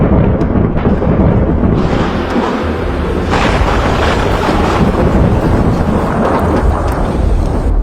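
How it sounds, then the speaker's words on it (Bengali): A violent thunderstorm with light rain at a riverside camp, heavy rumbling thunder rolling continuously and loudly close by over a constant wash of rain and wind buffeting the microphone, with no one talking. "তো 6 নাম্বার দিনটি শুরু হলো আমাদের ভয়ানক বজ্রপাত এবং রিমিঝিমি বৃষ্টির মধ্য দিয়ে।"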